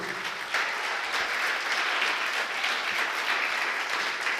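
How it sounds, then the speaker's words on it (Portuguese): A church congregation applauds during a sermon: steady, dense clapping from a large crowd, loud and continuous throughout with no talk over it. "Você pode aplaudir o Senhor?"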